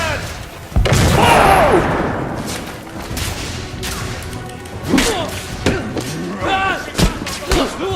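A grenade blast in The Order: 1886 lands as a loud, sharp crash about a second in, with a rumbling tail; further thuds and gunfire-like hits follow amid shouted voices.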